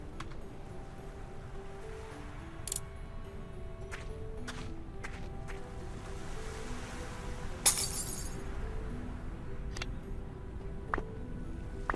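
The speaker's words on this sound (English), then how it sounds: "The bottle's broken into shards of glass." In a point-and-click adventure game, a glass bottle shatters into shards with sharp, bright cracks and tinkling bursts at scattered moments, the loudest near the middle, over a steady low ambient bed of water and hum.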